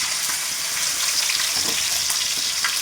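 Masala frying in hot oil for a Telugu-style fish curry, a steady close crackling sizzle with occasional stirring scrapes throughout, no voices.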